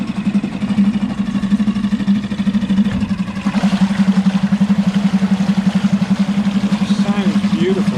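A Suzuki DF6 four-stroke outboard runs close by, a loud steady pulsing drone that picks up a little as throttle is added, with a voice speaking over it.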